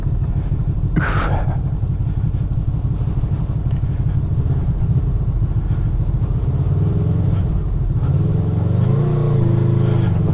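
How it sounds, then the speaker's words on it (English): A Honda VFR motorcycle rides off-road on a slippery track near Loch Lomond, its engine droning steadily and loudly throughout, with a brief louder rumble early on and the revs rising and shifting toward the end. "Nothing wrong with a bit of off-roading on a VFR."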